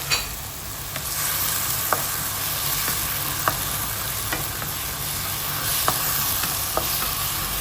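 Onion and pineapple sizzle steadily in a frying pan while being stirred, with a constant crackling hiss and a few soft clinks of a utensil, no talk.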